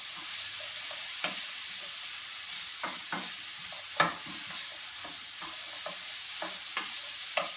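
Carrots sautéing in a saute pan, a continuous soft sizzle broken by repeated spoon stirring clicks and scrapes at irregular intervals.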